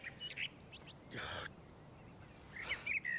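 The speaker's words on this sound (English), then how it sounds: "Bleeding birds." Birds give several short, high chirps and tweets, scattered across a quiet outdoor background with a soft breathy burst in the middle.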